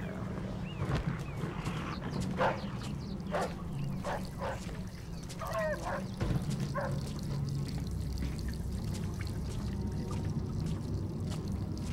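A dog barking in the video game Mafia II Definitive Edition, a series of separate moderately close barks spaced over several seconds against a low steady background hum.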